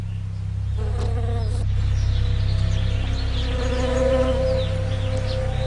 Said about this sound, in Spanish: millones de abejas son transportadas hasta aquí para que ayuden en la polinización de los almendros